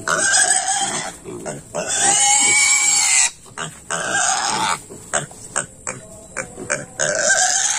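A pig squeals loudly while being injected with a vaccine, shrill sustained screams broken by brief pauses and grunts, close up and nearly continuous over the clip.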